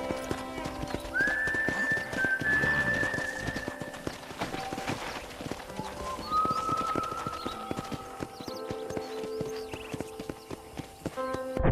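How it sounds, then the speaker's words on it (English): Horse hooves clip-clop at a steady walking rhythm in Red Dead Redemption, with two whinnies and soft ambient game sounds under the steps. "let's see if you can still ride a horse."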